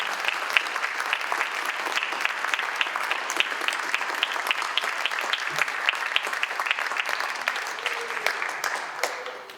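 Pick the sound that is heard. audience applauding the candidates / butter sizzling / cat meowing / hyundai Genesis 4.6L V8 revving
audience applauding the candidates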